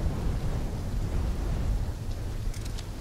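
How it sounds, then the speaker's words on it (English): Storm ambience from Call of Duty: Black Ops III, a steady loud rumble of wind and heavy weather with deep low-end roar throughout, and faint sharper crackles near the end, with no voices. "When the full force of the storm hits, we'll be looking at 150 mile per hour winds."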